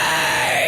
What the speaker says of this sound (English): Fry scream.